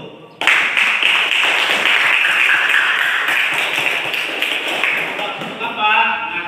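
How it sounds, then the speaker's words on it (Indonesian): A classroom of students bursts into unison hand clapping after singing a song, a dense loud burst of applause that starts abruptly, continues for several seconds and fades slightly near the end. "mari kita tepuk tangan terlebih dahulu"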